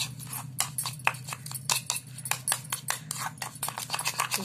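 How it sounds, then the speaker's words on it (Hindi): A spoon mixes sugar into a homemade face scrub in a bowl, giving irregular clinking and scraping taps at close range over a steady low hum, with no talking. "हम एक चम्मच के करीब चीनी लेंगे और इन सब चीज़ों को अच्छी तरह से आपस में मिक्स करेंगे"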